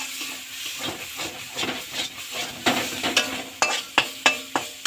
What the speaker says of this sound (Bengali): তো দেখো বন্ধুরা মশলাটা আমার বেশ কষানো হয়ে গেছে